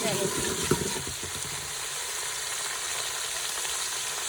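Onion frying in hot oil, a steady broadband sizzle running throughout at moderate level, with a few brief stirring clatters near the start.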